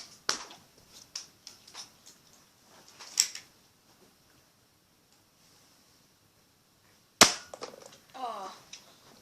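Nerf guns fire in sharp, close snapping pops, a scattered handful followed by a quiet gap and then one loud crack with rattling handling noise.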